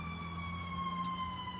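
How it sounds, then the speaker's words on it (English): An ambulance siren passing on a street near a garage where inner and outer tie rods are being changed, a steady wailing tone sustained over low traffic rumble, moderately loud and continuous with no voices. "there's an ambulance going"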